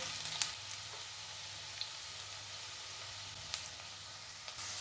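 Steady, soft frying sizzle in a pan as ingredients for mushroom biryani cook toward golden brown, a faint continuous crackle with a low hum beneath and a few brief ticks.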